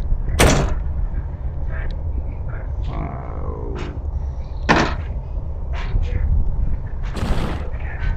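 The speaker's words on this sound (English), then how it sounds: "The door is locked." A locked door rattles in the horror game Ao Oni, giving several sharp knocking jolts spread over a steady background hum.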